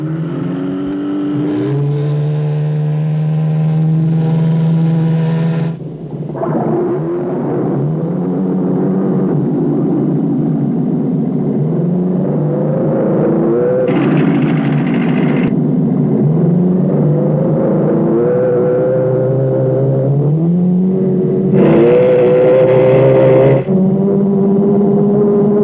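Recreational motorboats speed along Florida waterways, their engines droning and rising and falling in pitch as several pass fairly close, loud and continuous with no voices.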